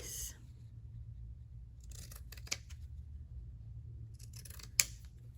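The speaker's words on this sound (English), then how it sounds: "I will just go ahead and cut through the entire piece." Scissors or a rotary blade slicing through a quilted holiday fabric piece, a few short crisp cuts near the start, middle and end over a steady low background hum, with no talk.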